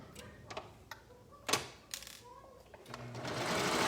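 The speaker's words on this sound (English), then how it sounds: "I'm stretching the elastic to meet the swimsuit as I'm sewing" A sewing machine stitches elastic onto a swimsuit with rapid, uneven bursts of mechanical ticking and whirring at close range, occasionally louder as it runs.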